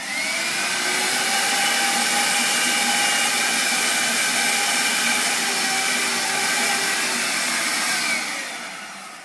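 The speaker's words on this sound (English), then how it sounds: "all you gotta do is just switch on the shop vac." A shop vacuum whines steadily at high pitch for several seconds, then begins winding down at the end; no voices.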